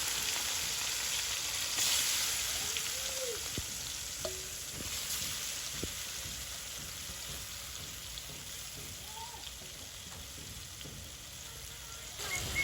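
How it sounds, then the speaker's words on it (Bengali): Lotta fish fry in hot oil in a village kitchen in Hatiya, a steady close sizzle with soft crackles and occasional stirring scrapes throughout. "এদিকে দিয়ে দিচ্ছি তেল, তেল হয়ে আসছে। এখন দিয়ে দিচ্ছি মাছগুলো"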